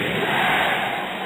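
A basketball arena crowd chanting for defense during a Gilas Pilipinas versus Iran game, a loud, dense roar of many voices filling the whole short moment.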